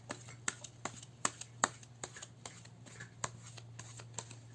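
Tarot cards are shuffled and drawn by hand: a quick, uneven series of crisp slaps and riffles, close and fairly quiet, over a steady low hum.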